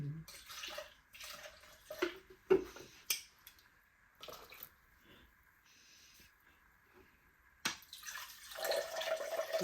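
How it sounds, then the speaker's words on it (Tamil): Water splashes and pours in short bursts into a mixer, with clinking of containers and a faint hum between pours. "மிச்ச தண்ணி போட்டு மிக்ஸ்"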